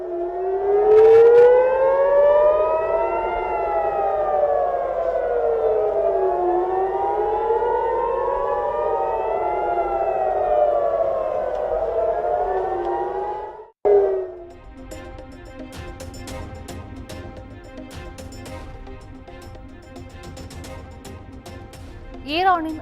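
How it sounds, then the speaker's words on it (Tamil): Civil defense air raid siren in Israel during missile attacks, a loud rising and falling wail sounding continuously for about fourteen seconds, then cutting out to leave a quieter jumble of background noise and scattered clicks. "ஏவுகணை தாக்குதலால் இஸ்ரேலில் இடைவிடாது ஒலிக்கும் சைரன்."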